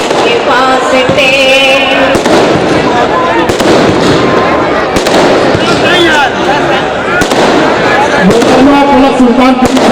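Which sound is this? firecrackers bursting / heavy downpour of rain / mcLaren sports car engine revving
firecrackers bursting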